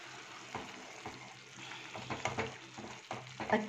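Dahi Rohu fish curry with yogurt and cashew paste being stirred in a pan: soft frying sizzle under repeated scraping spoon strokes, fairly quiet and close.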